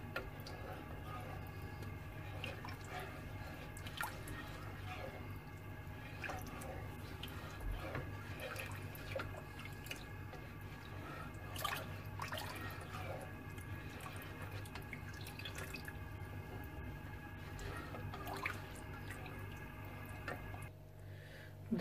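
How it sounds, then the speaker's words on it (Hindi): Milk boiling in a pot with a little ghee added for making phirni: a faint, steady bubbling and simmer with occasional soft pops and gurgles over a low kitchen hum. "दूध जो है वो अच्छी तरह से बॉयल हो चुका हुआ आप देख सकते हैं।"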